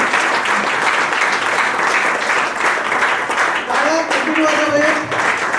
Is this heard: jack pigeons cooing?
no